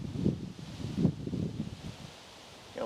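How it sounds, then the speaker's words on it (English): Sudden outdoor wind gusts buffet the microphone in low, rumbling bursts, surging several times and then easing to a quieter rustle. "got windy all of a sudden"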